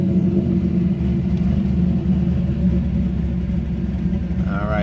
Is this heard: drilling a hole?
no